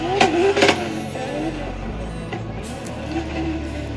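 A BMW E30 drift car slides along the track edge at a DriftFrance final, its engine droning and revving at a moderate distance, with a commentator talking over it.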